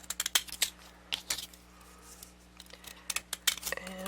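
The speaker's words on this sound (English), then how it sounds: "we're going to trim them with this little pinking shear scissory thing." Small pinking shears trimming stamped paper for botanical pocket pages, a run of crisp snipping clicks and paper crunches in short irregular bursts, close and quiet with faint rustling between cuts.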